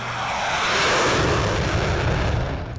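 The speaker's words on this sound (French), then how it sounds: "L'avion de chasse Earthjet vient de réaliser son premier vol depuis une base militaire près d'Ankara." Turkish supersonic two-seat fighter jet powered by a General Electric turbojet, flying on its first flight near a military base outside Ankara; a steady, loud broadband roar with deep rumble holds throughout, with no talk.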